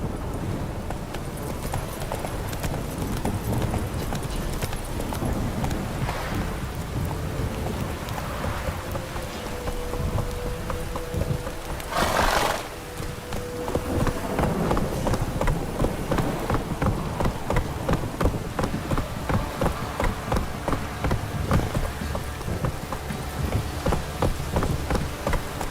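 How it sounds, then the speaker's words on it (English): Steady rain patters throughout alongside rhythmic horse hoofbeats in The Witcher 3 video game, with a brief louder burst midway; no one speaks. "If it don't stop raining, my arse will rot off."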